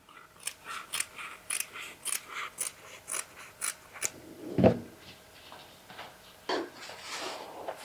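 Fabric being cut with scissors while sewing a skirt, a steady series of crisp snips at a regular rhythm, close and quiet, then a softer clunk and rustle of handling.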